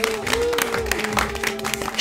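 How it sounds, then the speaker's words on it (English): People clapping in a group, a quick run of hand claps under a sustained voice and background sound for about two seconds. "Man, we're clapping for this."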